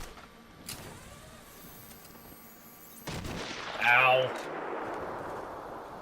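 Sniper fire in Batman Arkham Asylum: two sharp, isolated shots a couple of seconds apart, the second followed by a pained yelp and a burst of game noise.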